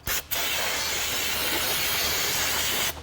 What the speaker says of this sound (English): all the brake clean that I'm spraying is falling into the drain container